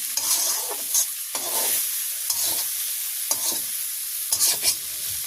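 Fish being stirred into greens frying in a pan in a village kitchen, giving a loud close sizzle broken by rhythmic scraping and clattering strokes at irregular intervals, with no voices.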